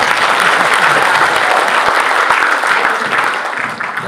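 Teachers applauding in a hotel hall at an evening training gathering in Jakarta, a dense steady round of clapping from a sizable crowd that holds for about four seconds and thins slightly at the end.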